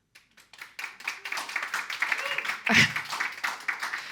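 A debate audience claps together, scattered at first and then swelling into sustained applause, with a sharp whoop or shout near the end.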